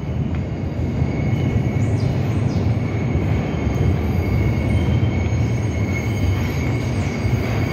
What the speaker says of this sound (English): So we're gonna get on the Q train